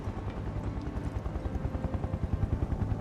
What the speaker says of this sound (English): That helicopter is super loud